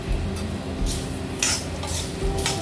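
Curry leaves dry-roasting slowly in a pan on low heat, with a soft continuous rustle and a few brief scraping stirs of the spatula against the metal.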